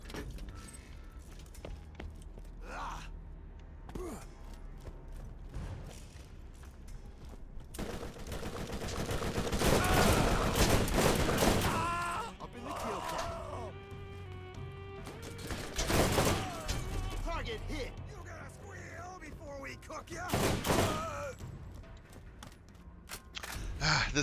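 Bursts of automatic gunfire from a gun in the video game Borderlands, rapid volleys swelling loud and then easing, with footsteps and someone talking over the shooting.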